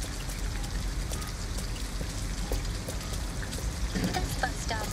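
Steady broadband rain falls with scattered droplet taps through a Detroit: Become Human game scene, continuous and fairly even, with faint voices murmuring underneath.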